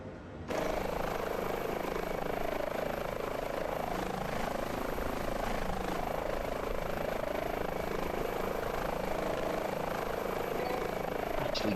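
Twin engines of an Airbus H145 helicopter idle in a flight simulator game, a steady whine and broad rotor wash that hold constant for the whole stretch, with faint gentle pulsing and no speech.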